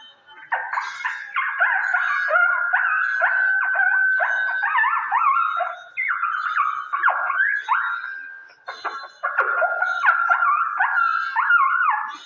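A voice at a mimicry show imitates a newborn puppy's crying: continuous high, wavering whimpers and yelps, nearly unbroken, with a brief pause midway.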